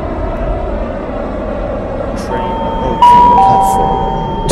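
A Roblox Delta Line train rolls along with a steady, loud broadband rumble and hum, a few brief higher tones sounding near the end, with no talk.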